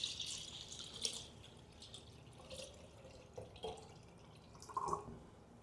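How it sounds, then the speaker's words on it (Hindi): Water poured into clay pots during a lunar eclipse ritual, heard as soft, intermittent splashes and drips, close by and fairly quiet. "अब देखिए चारों घड़ों में हमने जल भर दिया है।"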